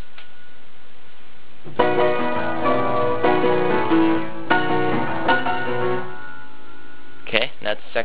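A phrase from the Twilight Princess trailer theme played on piano, with sustained notes and chords from close by, followed by a short pause and a few quick closing notes.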